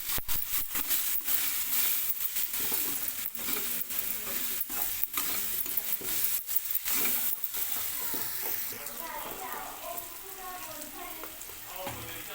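A spoon scrapes and clinks repeatedly in a pan while coriander powder, turmeric and ginger garlic paste are stirred together, with a soft sizzle underneath and a voice talking faintly.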